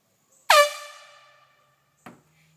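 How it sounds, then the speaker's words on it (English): A handheld air horn fires a single loud, piercing blast that fades over about a second. A much shorter, fainter toot follows shortly after. "You're also going to want to have something like an air horn."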